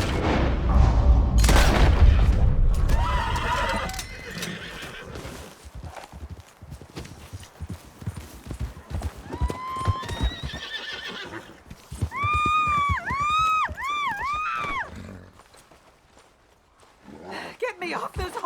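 Horses in Red Dead Redemption 2 give several loud, rising whinnies in the middle of the scene, joined by hoof clops, footsteps and a heavy boom near the start. Voices talk over parts of it.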